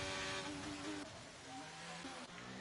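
Race cars in a racing video game roll into the pit lane, a steady engine drone with shifting pitches from several cars at once, moderately loud and continuous without any voices.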